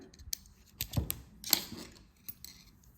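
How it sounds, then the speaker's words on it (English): Crochet yarn is cut, with a few quiet, crisp snips and small clicks spread over a couple of seconds up close. "We can cut the yarn."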